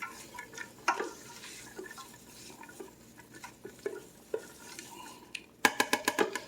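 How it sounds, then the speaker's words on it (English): A spoon stirs chopped vegetables in a soup pan with a soft, steady sizzle, the clinks and scrapes coming irregularly up close, and a quick run of sharp taps on the pan near the end. "I'm gonna give this another quick stir here"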